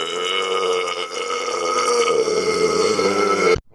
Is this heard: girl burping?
yes